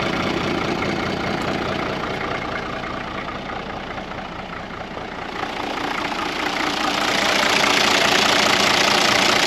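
An old Toyota Landcruiser, left parked for years on a dairy farm, idles with a steady mid-low engine rumble and a slight knocking roughness, loud and close throughout, its level swelling a little toward the end.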